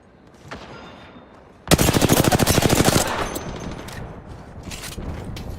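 Rapid automatic gunfire in a video game, a loud close burst of dense rattling shots lasting over a second, followed by fainter scattered shots and game noise.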